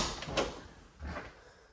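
A coat closet door in a mobile home opens with two short knocks and rattles roughly half a second apart, close and moderately loud in a quiet room.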